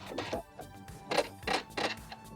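A sewing machine back stitches along a rolled denim jeans hem, sounding in short mechanical bursts of whirring stitches separated by brief pauses, fairly close.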